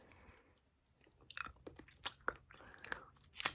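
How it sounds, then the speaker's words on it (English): Close, quiet gum chewing with moist smacks, crunchy bites and small clicks in an irregular rhythm, starting after a short silence. "I'm going to go ahead and start chewing this gum."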